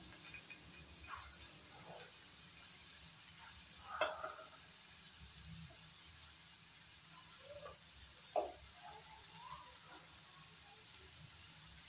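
Thinly sliced onion and green chili fry in ghee, giving a steady close sizzle and hiss, with occasional stirring scrapes and clinks in the pan.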